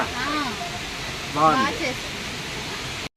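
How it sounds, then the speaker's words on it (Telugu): Rani Duduma waterfall in Odisha roars as a steady, broad rushing wash of water heard from nearby, with people talking briefly over it. "ఆ వాటర్ ఫాల్స్ సౌండ్ కూడా మీరు విన్నారు కదా"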